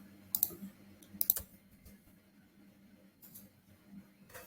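A computer mouse clicks a couple of quick double clicks, close and sharp, over a faint low hum of room noise, with a softer click later on.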